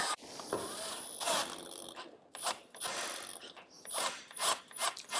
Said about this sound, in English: Let's see if we can use this little extractor bit.